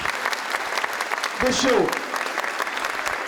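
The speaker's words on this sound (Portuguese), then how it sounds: "Esse merece uma salva de palmas muito especial de todos nós." An audience at a stadium launch event applauds councillor Jorge Felipe with steady, moderately loud clapping, and a voice briefly rises over it midway.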